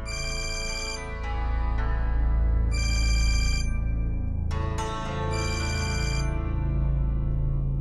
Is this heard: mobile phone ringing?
yes